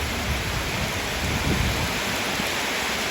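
A heavy, steady downpour hisses continuously outdoors where an elephant is playing in water, a dense, loud wash of rain with no talking and no distinct splashes standing out.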